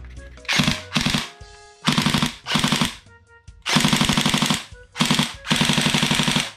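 AK Storm toy gun firing full auto: about seven short, loud, rapid rattling bursts with brief pauses between them, close and alone with no talk.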